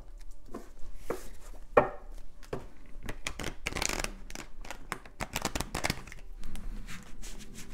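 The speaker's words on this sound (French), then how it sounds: "C'est chaud patate de mélanger ce jeu." A large deck of cards is shuffled by hand, with bursts of riffling and flicking followed by sharp slaps and taps as the cards are squared up, close and fairly loud, with no speech.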